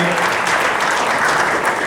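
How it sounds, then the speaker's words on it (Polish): Steady, full applause fills the hall at a football club's anniversary ceremony, a thick, even wash of clapping from a large crowd. "Gratulacje, jeszcze raz brawa,"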